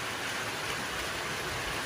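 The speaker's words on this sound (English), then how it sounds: "Glorious rain, love it." Steady rain falls on an off-grid Australian property, producing an even, unbroken hiss that stays moderate rather than pounding.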